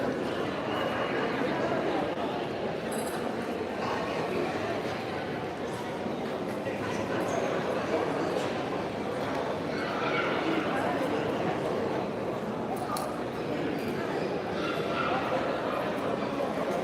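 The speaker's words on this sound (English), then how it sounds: "Just some beautiful dogs, man." Presa Canario dogs bark in scattered bursts at a breed show in Tenerife, Canary Islands, under a constant wash of crowd noise and nearby talking.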